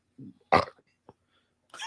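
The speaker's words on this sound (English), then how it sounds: "you made a burp come out of me" A single short, loud burp bursts out close to the microphone, with a few faint throat sounds around it.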